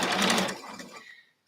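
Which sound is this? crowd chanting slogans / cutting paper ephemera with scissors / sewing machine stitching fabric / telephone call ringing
sewing machine stitching fabric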